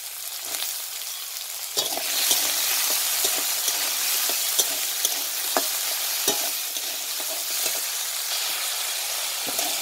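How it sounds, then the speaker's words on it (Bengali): Potatoes with a bay leaf tempering fry in a pan, giving a steady hissing sizzle close by, broken by occasional sharp taps and scrapes of stirring, with no voices. "আলু আর এখানে একটা ফোড়নে তেজপাতা দিচ্ছি, দিয়ে খুব ভালো করে ভেজে নেব।"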